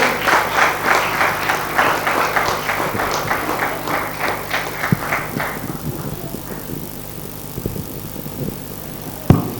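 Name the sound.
audience applause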